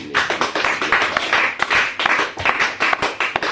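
A church congregation claps together in quick, irregular rhythm, with sharp overlapping hand claps filling the room steadily from start to finish.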